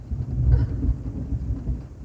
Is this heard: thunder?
yes